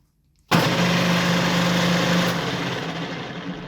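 A three-phase electric drill in a car service workshop switches on abruptly after a moment of quiet and runs at a steady whine, close and loud, then begins to wind down near the end.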